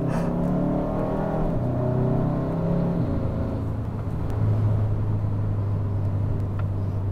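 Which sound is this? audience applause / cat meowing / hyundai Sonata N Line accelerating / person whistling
hyundai Sonata N Line accelerating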